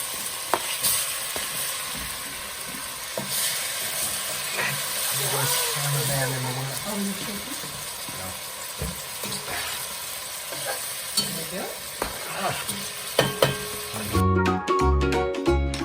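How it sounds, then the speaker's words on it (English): Cut-up meat frying in browning butter in a pan for goulash, a steady close sizzle with occasional stirring clinks and scrapes; voices talk over it at times. "I'm going to put that into the pan. With the browning butter."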